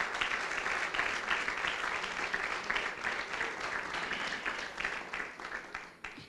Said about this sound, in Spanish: Pero aplauda al Señor, que lo veo muy callado.